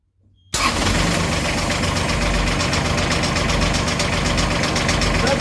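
A Beta 25hp marine diesel engine, one with a knocking fault, cranks and catches after a brief quiet moment, then settles into a loud, steady rattling idle with a regular knock that runs on alone for several seconds.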